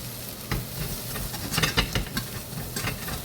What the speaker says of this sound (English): If you can do better at scraping than I can.